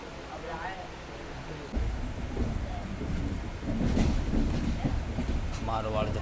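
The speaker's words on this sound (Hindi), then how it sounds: "8:17 पे हमारी ट्रेन निकल चुकी है मारवाड़ जंक्शन से।" The Jodhpur to KSR Bengaluru superfast express runs shortly after leaving Marwar Junction, a steady low rumble and rattle from inside the coach that grows heavier partway through, with someone talking over it.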